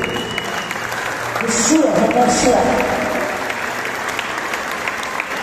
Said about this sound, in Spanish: Y dale un fuerte aplauso a tu rey.